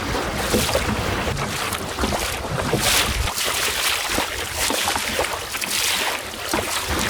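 Sailing dinghy moving through the water in winter wind on Lake Macquarie, Australia: continuous loud wind buffeting and water rushing against the hull, close and steady, with no talking.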